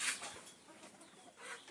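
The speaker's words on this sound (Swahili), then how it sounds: "Let me see which chicken is that is fighting" Chickens, including a rooster, squabble and cluck in a short, faint scuffle of scratchy calls and flapping bursts at a distance.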